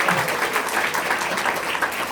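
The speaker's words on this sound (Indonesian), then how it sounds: "Tepuk tangan dong buat Ibu Sunairo" Audience applause at an office event honouring a startup leader, a dense steady wash of many hands clapping together, fairly loud and even throughout with no voices standing out.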